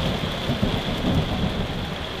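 Steady heavy rain pours at the outdoor HymerFest 2017 festival, with low rumbling thunder rolling underneath the constant hiss of falling drops.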